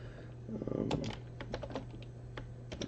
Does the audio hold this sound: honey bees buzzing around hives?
no